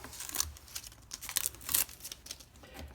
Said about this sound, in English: We should pull this tape off.